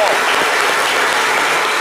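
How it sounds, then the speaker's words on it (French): An audience applauds loudly for a wedding planner on a live talk show, a dense, continuous burst of clapping heard up close. "merci de l'applaudir très fort"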